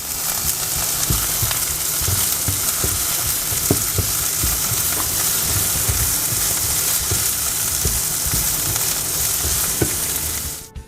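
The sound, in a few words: ground beef frying in a pan for tacos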